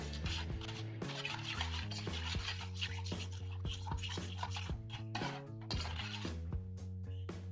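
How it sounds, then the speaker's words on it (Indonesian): Ground spice paste for tahu petis is stirred with water in a container, a steady, continuous scraping and swishing close by with no talk. "Kita aduk-aduk supaya bumbu tercampur merata."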